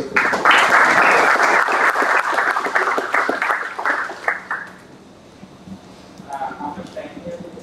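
An audience at a startup funding event applauds loudly for about four seconds, then the clapping fades out and a voice speaks briefly near the end.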